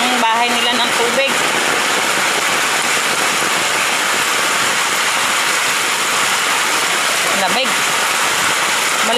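Heavy, steady rain pours down without a break in a sudden downpour amid flash flooding, loud and dense, with a brief spoken word over it.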